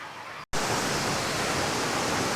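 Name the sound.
small waterfall in Thailand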